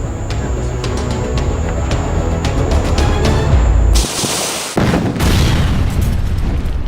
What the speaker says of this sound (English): We're putting explosions.